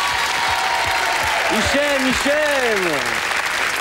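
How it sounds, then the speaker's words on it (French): Audience applause forms a steady bed of clapping under a voice, which speaks briefly over it. "Des applaudissements, s'il vous plaît."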